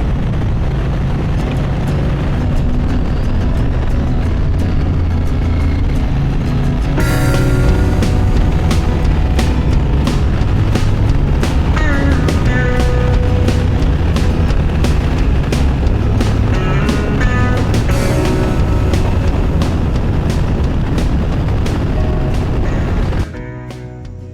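Royal Enfield Bear motorcycle ridden on a late-season outing: a loud, steady engine drone and rushing wind carry on without a break for about 23 seconds, then cut off sharply at the end.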